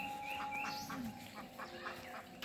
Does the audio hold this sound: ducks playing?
yes